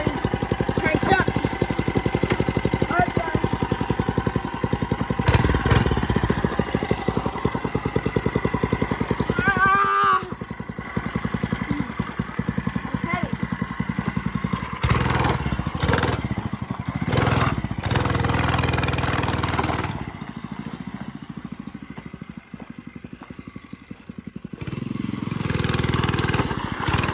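A motorcycle engine runs steadily with a rough, throbbing idle that continues for the whole stretch, shifting in level now and then, with occasional talk in the background.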